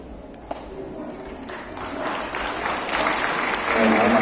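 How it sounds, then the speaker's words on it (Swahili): A crowd at a university church gathering applauds, the clapping building steadily from a moderate patter to a louder, fuller round with voices faintly mixed in. "pamoja na makofi hayo"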